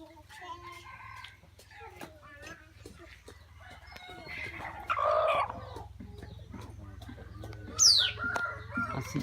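Two decoy chickens call in the open, with faint clucks and a rooster-like crow, sharp chirps and a high rising bird call near the end, over a steady low hum and scattered clicks.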